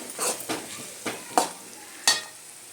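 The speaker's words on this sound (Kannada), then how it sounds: "ಉಳ್ಳಾಗಡ್ಡಿ ಇವನ್ನ ಸ್ವಲ್ಪ ಗೋಲ್ಡನ್ ಫ್ರೈ ಇದನ್ನು ಬ್ರೌನ್ ಆಗುತ್ತಾನ ನಾವು ಫ್ರೈ ಮಾಡ್ಕೊಳ್ಳೋಣಂತ" Onions fry golden brown in a hot pan for a North Karnataka field bean curry, a soft sizzle broken by several distinct scraping stirs of a spatula against the pan, close and alone.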